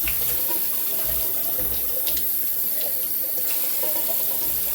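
A kitchen tap runs steadily into a sink while a colander is rinsed, a constant close hiss of flowing water with faint clatter and splashing, no voices.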